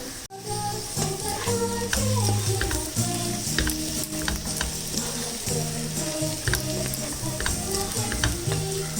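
Onions fry steadily in a pan for a prawn mappas, giving a continuous crackling sizzle with intermittent stirring scrapes and clinks, close and fairly loud throughout.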